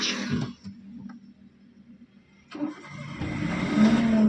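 A car engine cranks and catches partway through a driving lesson after a stall, then settles into a steady mid-pitched idle; the cabin is otherwise quiet, with no talk.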